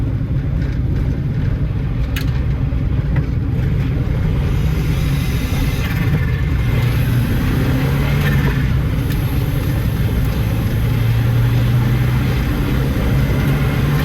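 Steady engine rumble and tire noise from an Opel rolling along a gravel road, with constant crunchy low-frequency road noise and wind from an open window.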